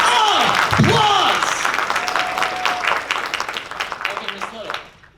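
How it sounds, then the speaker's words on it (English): A crowd at a political rally in Amarillo, Texas applauds loudly, with dense clapping and a few cheers near at hand under a brief voice, fading toward the end. "Okay, Miss Little, can I get a round of applause for Miss Little?"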